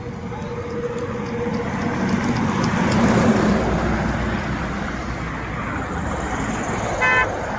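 Steady roar of idling and slow-moving road traffic in a jam on the road toward Mangaon in Konkan, with a car horn honking briefly near the end.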